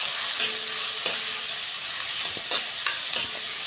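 Chopped onion sizzles steadily in a hot oiled pan for a mussel dish. A spoon stirs it now and then with a few sharp scrapes, close up and with no talk.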